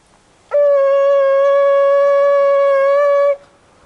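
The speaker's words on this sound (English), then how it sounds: "This is the sound of a shofar." A shofar is blown outdoors outside the walls of ancient Jericho, one loud, sustained, steady horn blast of about three seconds, close and alone, with a rich buzzy harmonic tone and a sudden start and stop.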